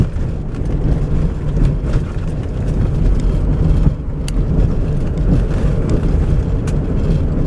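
A 2005-2010 Jeep Grand Cherokee WK driving on a dirt road gives a loud, continuous low engine and tire rumble with road noise and occasional bumps, heard from inside the cabin.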